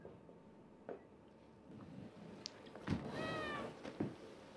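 A cat gives a short meow near the end amid faint thumps and indoor background noise.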